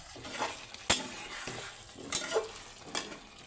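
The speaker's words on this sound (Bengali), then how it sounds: "আলুটা দিয়ে আবার 2 মিনিট কষাবো।" Potatoes sauté in a pan with soft sizzling under sharp intermittent clinks and scrapes of a spoon stirring against the metal, close and quiet, no talking.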